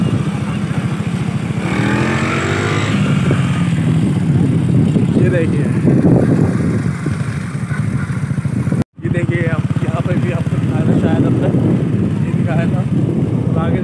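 Small kids' motorcycle engine running steadily with revving swells, fairly close and loud, with people talking over it throughout and a brief dropout near the middle.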